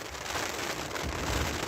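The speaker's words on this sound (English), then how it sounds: "rainy and windy." Rain and wind sweep through the wilderness on a stormy morning, a dense, steady hiss of falling drops and gusting air with nothing else standing out.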